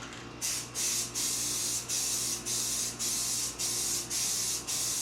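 A second coat is sprayed onto a boat sun pad in about eight evenly spaced, loud hissing bursts, each lasting roughly half a second and separated by brief pauses.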